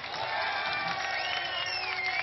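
A large crowd at a political rally in Belgaum applauds and cheers for Navjot Singh Sidhu. The loud, continuous clapping is mixed with shouts and rising whoops that hold steady throughout.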